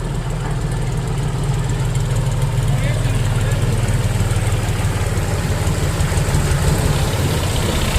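A tractor engine rumbles steadily and loudly through floodwater in a village in Gurdaspur, tyres submerged, a low continuous drone close by, with people talking over it.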